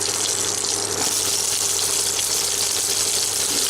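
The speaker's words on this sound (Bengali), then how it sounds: "ঢেঁড়সগুলোকে আমরা একটু ভেজে নেব।" Okra sizzling in a hot pan with dried and green chillies, a steady, dense frying hiss with a low hum underneath, continuous and close throughout with no talking.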